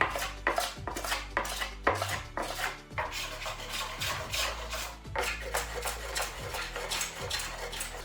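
Rhythmic rasping strokes repeat steadily, each a short scraping pass sanding an old wooden workbench top, close up with no talking.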